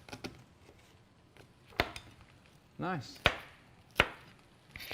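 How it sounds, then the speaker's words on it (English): Onions being chopped with a knife on a cutting board: a handful of separate, crisp thuds spaced irregularly, close by, with a brief spoken word. "So let's just chop these onions up, and we can add those to the pan."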